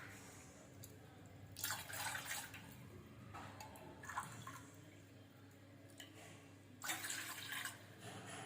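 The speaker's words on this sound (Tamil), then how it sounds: "மூணு டம்ளர் தண்ணி விட்டாச்சு." Three bursts of water poured from a tumbler into a pot for making an herbal tea, each splashing pour a second or so long and separated by quiet pauses, fairly faint.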